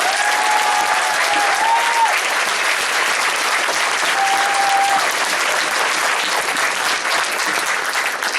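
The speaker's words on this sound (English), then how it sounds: "Please give them a big round of applause" A school concert audience gives a big, sustained round of applause for staff and the principal, dense and loud clapping that runs unbroken for several seconds.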